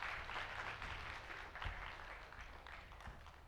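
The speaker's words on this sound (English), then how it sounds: "over the stage with a huge round of applause, everyone" Applause from an afternoon corporate conference audience greets a speaker taking the stage, a steady wash of clapping with no single claps standing out, moderately loud and sustained throughout.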